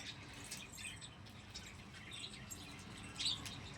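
Faint bird chirps come and go over a steady background hiss, with one brighter, sharper call near the end.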